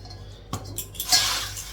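Metal pots and utensils clatter and clink in a home kitchen as dishes are shifted onto a shelf, a sharp knock followed by a brighter rattle of scraping metal, close and moderately loud with no talk.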